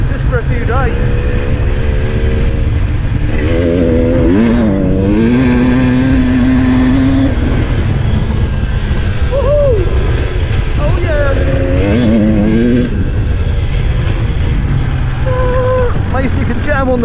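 KTM 300 EXC TPI two-stroke dirt bikes ride off road in the Fens, engines buzzing and revving up and down close by, with a person talking over the loud, continuous motor noise.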